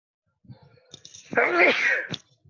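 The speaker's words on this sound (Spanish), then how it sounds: "Empecé a tener como esporádico estornudo." One person sneezes once, a sudden forceful burst close to the microphone after a few faint sharp breaths, then quiet.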